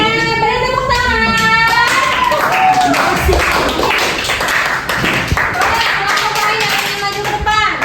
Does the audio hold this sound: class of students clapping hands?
yes